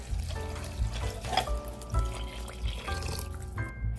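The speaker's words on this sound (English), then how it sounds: "it's time now to add the stock" Stock poured into a crock of softening onions for a lock-keeper's onion soup, a steady liquid splash and trickle running close by for several seconds, with faint clinks near the end.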